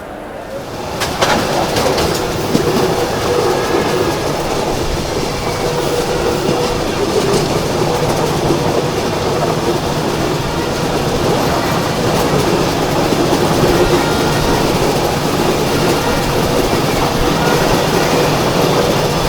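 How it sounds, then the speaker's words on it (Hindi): Antyodaya Express train pulling out of Muzaffarpur Junction in Bihar and running, a steady loud rumble of rail wagons with faint clickety-clack, plus birds chirping near the start. "चलिए 5 मिनट होल्ड के बाद डिपार्चर हो चुके अपनी बिहार के साई लीचियों के शहर मुजफ्फरपुर जंक्शन से।"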